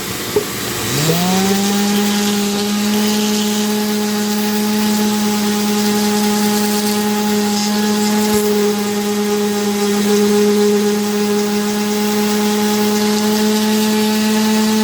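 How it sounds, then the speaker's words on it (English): A Dremel rotary tool sanding a carved fairy castle spins up and holds a loud, steady high-pitched whine close by, running continuously with no talking. "I'm going to sand a little bit, and hang on, here it comes"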